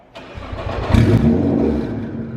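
A Nissan GT-R engine kicks on and revs loudly, then settles into a heavy, rumbling roar that stays close and strong.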